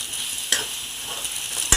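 Food frying in a pan for a simple homemade Marathi-style recipe, giving a soft steady sizzle with a couple of sharp clinks of a spatula against the pan.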